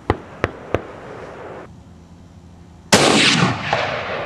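A Bushmaster AR-15 rifle fired outdoors in the desert, one loud sharp crack with a long rolling echo fading out, preceded by a few light clicks and handling noises nearby.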